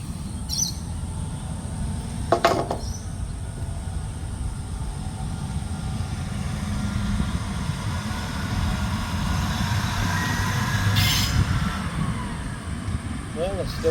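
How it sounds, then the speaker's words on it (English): A large train rolls past amid sugar cane fields, a steady low rumble of wagons building gradually over many seconds, mixed with wind and faint birdsong and brief bursts of background noise. "but here comes a bigger train."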